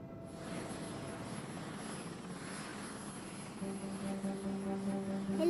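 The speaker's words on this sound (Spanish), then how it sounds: "El helicóptero hace mucho ruido." Helicopter in flight heard from inside the cabin, a steady, loud engine and rotor drone with a constant whine, growing slightly heavier toward the end.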